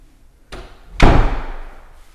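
A door swings and shuts with a loud, heavy slam, preceded by a softer knock, the thud ringing briefly before fading.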